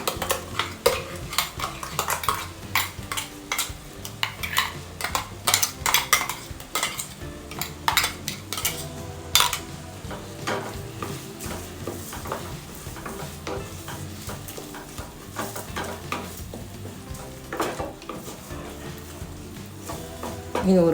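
A spoon scrapes and clinks against a cooking pot as ground coriander, green chili and garlic are stirred in, with sizzling underneath, in steady repeated strokes over about twenty seconds, close and fairly loud.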